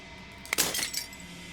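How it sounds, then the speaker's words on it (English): In the video game Slay the Princess, glass shatters in one sharp crack followed by a brief cascade of tinkling fragments that fades within a second. "As the final fragment of glass shatters"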